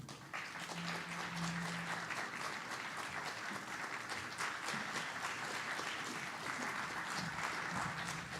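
A conference audience applauds to welcome a speaker to a session on Japanese Baptist hymns and worship, a sustained wash of clapping hands from a medium-sized crowd heard from a distance.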